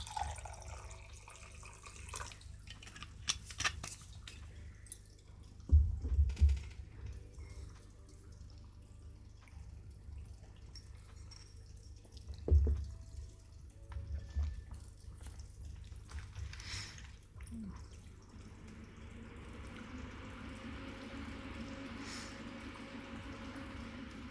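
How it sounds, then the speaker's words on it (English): Mead being poured into a glass, a soft liquid trickle with a few brief splashy bursts and quiet glugs, faint and spread over a long stretch with low background hum. "I'll take this time to pour some more mead"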